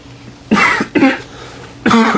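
A person coughs three times in close succession, loud and near, each cough a short rough burst with brief pauses between and a quiet room around them.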